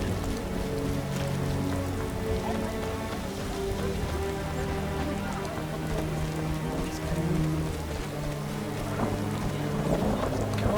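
Heavy rain in The Witcher, a dense, steady wash of falling water that carries on evenly throughout, with a faint tonal layer of game ambience underneath.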